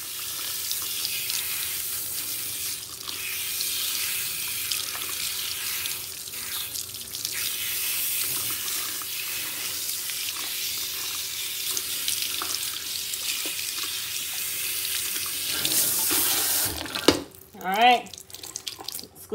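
Steady hiss of water running from a tap into a sink, continuous and fairly close, with a brief voice near the end.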